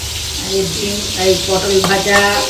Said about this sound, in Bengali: এখানে পটলটা ভাজা হচ্ছে